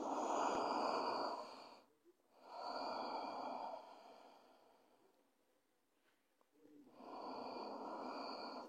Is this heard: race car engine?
no